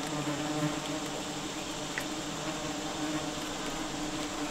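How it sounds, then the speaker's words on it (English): A heavy swarm of yellow jackets and bald-faced hornets around a large nest being relocated produces a dense, steady buzzing drone. It holds at an even level throughout, with no voices over it. "minute and a half so you guys can hear the swarm."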